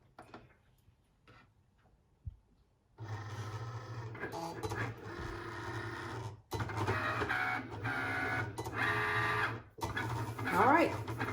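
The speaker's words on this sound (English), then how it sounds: "Pretty much cutting the vinyl into this design that you see right here." A Cricut machine cutting vinyl, quiet at first, then a close mechanical whir starting up and running in bursts with brief pauses, carriage motor buzzing back and forth.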